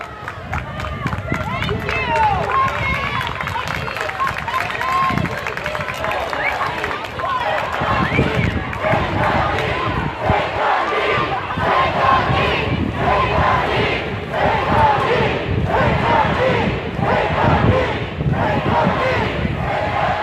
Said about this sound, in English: The crowd is urging the police that are in front of the police department to take a knee in solidarity with them.